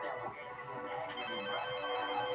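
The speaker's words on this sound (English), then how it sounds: "Phone's ringing." A telephone rings indoors at a moderate distance, a steady electronic ring that runs throughout under faint room noise.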